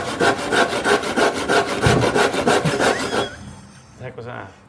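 A handsaw cuts through drywall in quick, rhythmic rasping strokes, about a dozen in a row, then stops. A few faint scrapes and handling noises follow.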